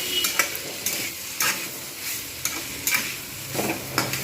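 Ginger paste frying in a pan while being stirred, a light crackling sizzle broken by regular scraping strokes roughly every half second, close and loud with no voices.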